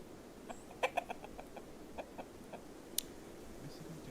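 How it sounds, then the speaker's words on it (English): Chickens cluck in a few short, soft, scattered bursts with a sharp click partway through, all fairly quiet over a hushed background. "Chicken sounds."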